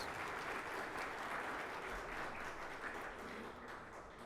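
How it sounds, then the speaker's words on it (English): A sustained round of applause from a seated audience at a professional conference for accountants, a dense steady crackle of many hands that holds even for the whole stretch and eases slightly at the end. "Let us have a big round of applause for all our sponsors."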